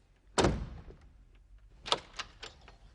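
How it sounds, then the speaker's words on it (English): A door thuds shut at close range, followed a second or so later by a few sharp clicks and clacks of a lock being turned, heard alone in a quiet room. "I've locked the door."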